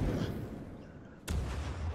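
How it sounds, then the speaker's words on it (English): Explosion spell effect in the video game Lichdom Battlemage, a sudden sharp blast with a deep rumbling tail over a low hum, a single close burst. "And it's got a nice little explosion going on there."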